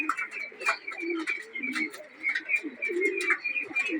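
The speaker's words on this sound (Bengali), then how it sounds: "আর একটা অতিথি কবুতর আসছে," Pigeons cooing close by in soft, repeated throaty coos, with light rustling of wings as birds settle, no talk over them.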